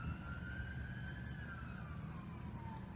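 An ambulance siren wails in a steady rising-then-falling tone above rumbling traffic noise, continuous and moderately distant, with no voices.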